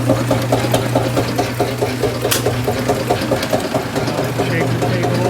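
A workshop exhaust fan for dust and plastic runs loud and close, a steady droning hum with a pulsing mechanical rhythm throughout, no talking.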